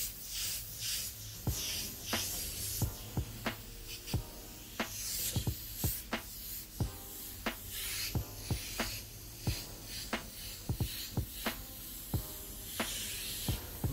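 A Grex XGi2-ES airbrush sprays heavily reduced paint in a steady close hiss, broken by frequent sharp clicks and brief bursts as the trigger works, with no talking.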